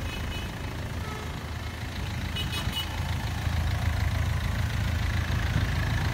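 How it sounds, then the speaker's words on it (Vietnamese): A 2008 Hyundai Verna with a 1.5-litre diesel engine idles smoothly and steadily, a low, even mechanical hum heard close up with no talk over it. "đây là máy dầu mà còn đổ êm như này"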